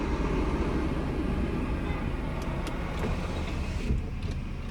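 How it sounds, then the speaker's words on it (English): A truck passes on a nearby road as a steady low rumble and broadband roar that holds throughout, fairly loud, with no talk over it. "hurry up, truck."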